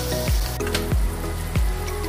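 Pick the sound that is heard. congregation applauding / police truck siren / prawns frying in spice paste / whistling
prawns frying in spice paste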